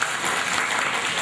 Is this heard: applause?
yes